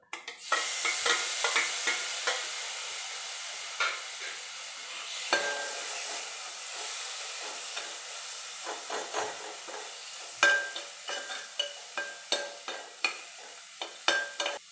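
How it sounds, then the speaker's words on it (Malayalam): Chopped tomatoes sautéing in a pan for masala bread, a soft continuous sizzle broken by repeated sharp scrapes and clinks of a spatula stirring against the pan. "തക്കാളി നന്നായിട്ട് വഴണ്ട് കിട്ടണം"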